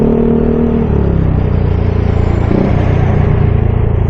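Road traffic on a downhill stretch in Aritao, heard from a moving motorcycle, makes a loud, constant rumble of engine and wind with a passing vehicle's drone rising and falling.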